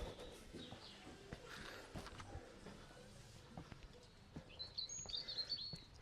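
Faint birdsong drifts from trees outside a country house in Church End, Milton Bryan, with scattered soft chirps that grow busier toward the end over a quiet outdoor background.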